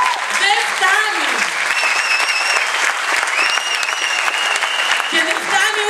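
A packed crowd at a high school circus show in Glyfada gives loud, continuous applause, with cheering voices and whistle-like calls rising above the steady clapping.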